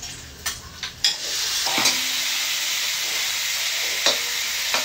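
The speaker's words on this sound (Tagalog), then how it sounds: "Ilalagay na natin itong karning nababad sa toyo." Soy-marinated meat for igado drops into a hot pan with onion, garlic and bay leaf, setting off a loud, steady sizzle that follows a few sharp clatters and stirring knocks.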